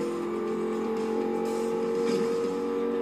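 A twin-turbo car engine in Forza Horizon 2 accelerates hard, giving a sustained, loud, steady drone with no voices over it.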